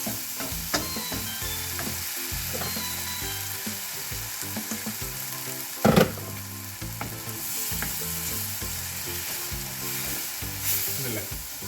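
Masala frying in oil for a Kerala jackfruit dish sizzles steadily, with a sharp hissing burst about midway as water hits the hot pan, then settles back to an even, moderate crackle.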